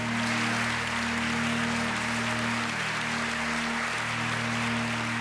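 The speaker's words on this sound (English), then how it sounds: "And the applause was so long, it was endless." Sustained applause from a packed auditorium audience follows the announcement of a new boson with a mass near 125 GeV, a steady dense wash of clapping that continues without pause, with a low steady hum beneath it.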